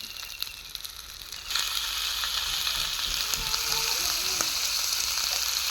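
Chicken pieces dropped into hot oil spiced with turmeric in a pan, setting off a sudden loud, steady sizzle that keeps going as the meat fries, with a few faint stirring sounds underneath.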